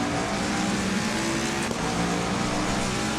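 A race car engine roars steadily at high revs in a VR sim racing game, a dense, loud, unbroken drone with no pauses and no talking.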